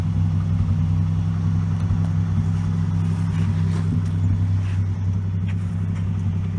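1980 Buick Regal Sport Coupe with a draw-through turbo V6 idling steadily, a low even engine hum heard close up with no talk.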